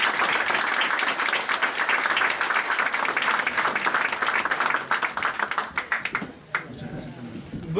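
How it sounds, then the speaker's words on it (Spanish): Sustained applause from an audience sealing the signing of a cooperation agreement with a town mayor in Villa Génesis, dense and loud for about six seconds, then thinning into scattered claps as murmuring voices rise. "Ahora sellamos con un aplauso esta firma de convenio."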